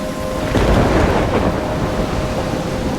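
Thunder rolls and booms through a heavy rainstorm in the video game Life is Strange, a loud sustained rumble with steady rain hiss underneath.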